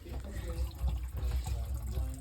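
Water drains through a bathroom sink drain, a steady low gurgling, trickling flow that holds at a fairly even level close by throughout, with no talking.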